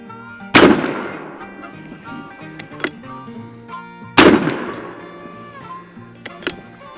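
Two loud, sharp shots from an Airforce Texan .510 carbine air rifle, several seconds apart, each ringing out with a long fading echo outdoors, followed by softer mechanical clicks.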